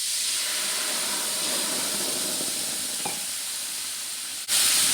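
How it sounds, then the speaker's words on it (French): White wine poured into a hot pan to deglaze it while making a pumpkin and ginger velouté, a loud steady steaming hiss and sizzle that jumps sharply louder near the end, with no voices. "Et on va le faire déglacer au vin blanc."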